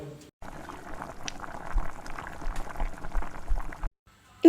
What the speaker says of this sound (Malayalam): തിളച്ചിട്ടൊന്ന് നല്ല രീതിയിലൊന്ന് കുറുകി വരട്ടെ